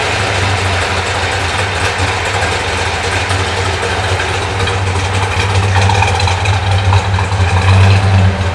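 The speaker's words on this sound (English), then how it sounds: "go ahead and fire that big block Chevy 4-speed up" A 1966 Chevy Impala's big block V8, paired with a four-speed, idles steadily and loudly nearby with a deep, even rumble and no one talking.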